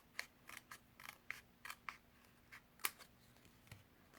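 Scissors trim paper for a handmade holiday window card, a series of quiet, crisp snips in an irregular rhythm with pauses between cuts, close and alone.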